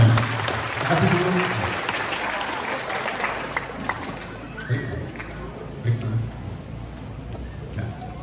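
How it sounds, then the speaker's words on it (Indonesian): A group applauds during a school spiritual-building and parenting training session, with loud clapping at first that thins out over several seconds while voices chatter in the room. "tepuk tangan buat kita semua"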